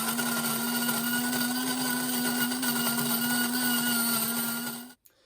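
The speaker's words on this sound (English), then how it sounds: "If you guessed that that sound is a coffee grinder" A coffee grinder's small motor whirs with a steady, high-pitched grinding hum for about five seconds, then cuts off abruptly.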